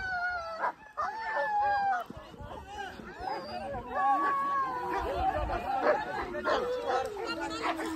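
A dog barks, yips and whimpers during a wild pig hunt in jungle, mixed with excited overlapping human voices nearby.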